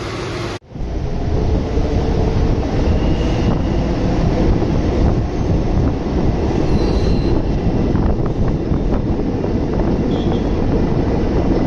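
A Chennai local train runs along the tracks with a steady, loud rumble of wheels and carriages, faint squeals rising now and then, continuous and close throughout after a brief cut at the start.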